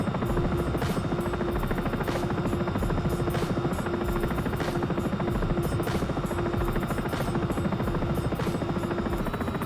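Steady, loud Sikorsky S-76 helicopter rotor drone in the X-Plane 11 flight simulator, with a buzzing engine hum, continuous and unchanging throughout, with faint rhythmic blade thumps.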